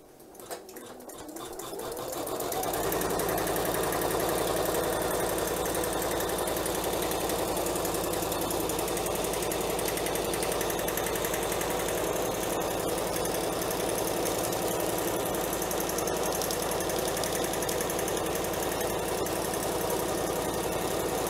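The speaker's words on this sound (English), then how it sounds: "I'm going to put the foot down, and I'm going to start." A Janome embroidery machine stitching. After a brief quiet start, a steady, close mechanical whir with a rapid needle rhythm runs continuously and evenly.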